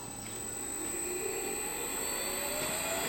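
A new knife-making grinder powers up after being switched on. Its motor gives a steady, loud whirring rush with a faint tone that climbs slowly, running continuously with no one talking.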